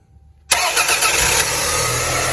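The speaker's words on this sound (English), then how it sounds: "So the car starts now." A 1993 Toyota Camry engine turns over and catches after a new battery install, a quiet pause followed by an abrupt loud start that settles into a steady close idle.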